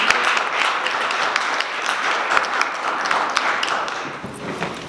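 Applause from a seated audience after a panel discussion on emerging technologies, a moderately loud patter of individual claps with some sharper close taps, continuing evenly and thinning slightly toward the end.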